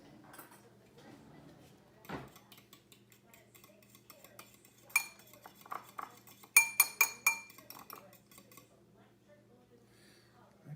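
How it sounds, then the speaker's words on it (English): Buttermilk and vanilla are stirred together in a bowl, giving off a scatter of light utensil clinks and taps that cluster into a quick run of sharper knocks midway, over a quiet kitchen background. "We have our buttermilk and vanilla. It's too bad you can't smell that. I love the smell of that. And we're just going to mix that together."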